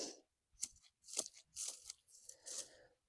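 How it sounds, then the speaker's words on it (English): Dead growth being cut off garden plants in winter: about five crisp snips in a row, close and fairly quiet, with short gaps between cuts. "I'm just going to cut the dead part off of them."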